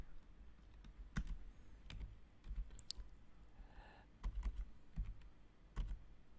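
Keys on a computer keyboard are tapped in short, irregular clusters of crisp clicks, close and fairly quiet, during Android SDK setup on a Windows PC, with a brief faint whir partway through.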